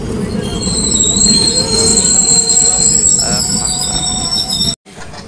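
A crowded passenger train pulls out of a station with loud rumbling and high, sustained wheel squeal nearby. The sound cuts off abruptly near the end.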